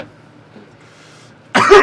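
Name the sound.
cough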